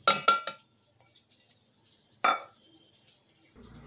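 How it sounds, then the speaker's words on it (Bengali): A few quick clinks and a rattling pour as spices are tipped from a bowl into a mixer jar, then a single sharp clatter and quiet scraping, close and sparse. "এবার এখানে একটা মিক্সির জারের মধ্যে সব মশলাগুলো আমি দিয়ে দিচ্ছি"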